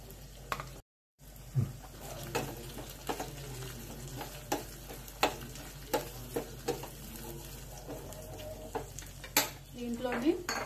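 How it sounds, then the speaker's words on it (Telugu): Dried red chilies and green chilies fry in hot oil in a pan with a steady sizzle, while a spoon stirs and scrapes in regular taps and clinks close by. "ఆయిల్ వేడైన తర్వాత దాంట్లో ఫస్ట్ ఎండుమిర్చి,"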